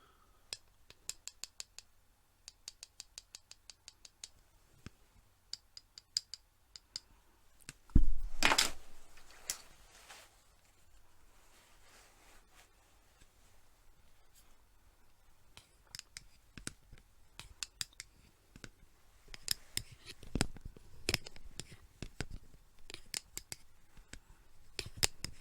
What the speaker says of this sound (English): there is a certain plastic on plastic sound that only glasses can achieve.